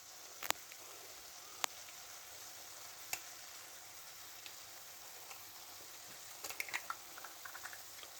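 Eggs frying in a pan with onions and potatoes for an Afghani breakfast, a faint steady sizzle with a few sharp crackles and pops scattered through, more of them near the end.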